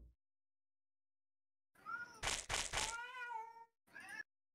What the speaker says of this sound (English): That is a fake cat from the game.